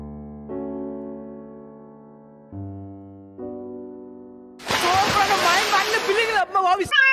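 Water is poured onto a flower plant, a loud splashing gush that runs for about two seconds near the end, after a stretch of sustained tonal music and before a brief gurgle trails off.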